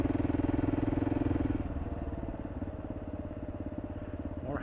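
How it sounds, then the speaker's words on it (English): A Kawasaki KLR 650 motorcycle's single-cylinder engine thumps steadily as it climbs winding curves, heard close with a rhythmic pulsing drone that shifts lower partway through. "Climbing up the curves on the KLR 650,"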